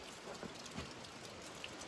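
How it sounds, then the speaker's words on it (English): Heavy rain pours steadily outdoors in a rural part of Pennsylvania, a dense, continuous hiss of drops drumming on surfaces with no talk over it. "it's pouring rain today."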